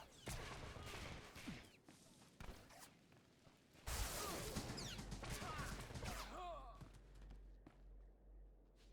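Rapid machine-gun-like bursts from a sniper's attack in SWTOR, sharp repeated shots with whooshes and impacts, loud in the middle then fading, with a voice talking over parts of it.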